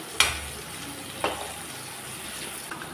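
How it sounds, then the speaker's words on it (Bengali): Bitter gourd slices fry in oil, giving a low, steady sizzle broken by three sharp clinks or spatters spaced about a second apart, close and moderately loud. "এক পিঠ ভেজে নিলাম, বাকি ওই পিঠটা আমি ভালো করে ভেজে নেব"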